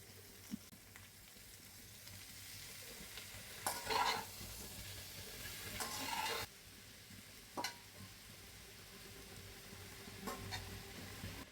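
Vegetables and tengra fish sautéing in a pan alongside taro, chunks of potato and fresh coriander: a steady low sizzle runs throughout, broken by a few louder scraping stirs near the middle and occasional short clinks, with no talking.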